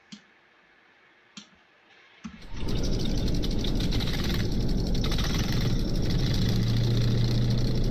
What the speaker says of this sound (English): let's hear the startup and the revving.